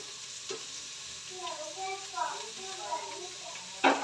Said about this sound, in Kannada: ಎಣ್ಣೆ ಕಾದ ನಂತರ ನಾನು ಮೊದಲಿಗೆ ಇವಾಗ ಈರುಳ್ಳಿನ ಹಾಕೊಳ್ತೀನಿ ಜೊತೆಯಲ್ಲಿ ಹೆಸರು ಮೆಣಸಿನಕಾಯಿ